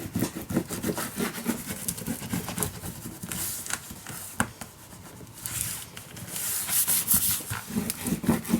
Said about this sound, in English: Burnish it down, guys.